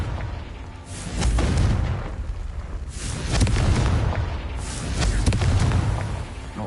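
The Confringo blasting spell from Hogwarts Legacy goes off in three deep, booming explosions, each swelling and fading about two seconds apart, loud and close.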